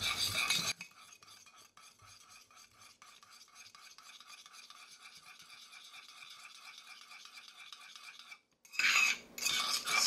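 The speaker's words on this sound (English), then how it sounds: "we're putting our yolk into our cup. And we want to stir this very well" Rapid rhythmic clinking of a utensil stirring egg yolk in a cup, a steady close scraping rattle that keeps going for several seconds before stopping, with brief louder handling noises at the start and end.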